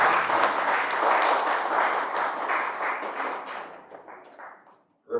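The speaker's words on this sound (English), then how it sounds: "I'm sure you can give a better round of applause." Audience applause at an appreciation luncheon, a dense sustained wash of clapping from a crowd that gradually thins and fades out near the end.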